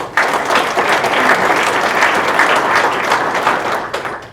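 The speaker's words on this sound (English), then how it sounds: "How about a big round of applause for this?" A crowd at a county breakfast applauds steadily for about four seconds, a dense, even wash of clapping that fades slightly at the end.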